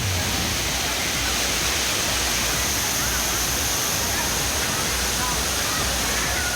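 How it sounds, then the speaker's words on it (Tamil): Heavy water pouring steadily down Thirparappu falls in Kanyakumari, a dense continuous roar close by that carries on unbroken throughout with no break or change. "தண்ணி நிறையவே வருது, அருவியில் நிறைய கொட்டுது"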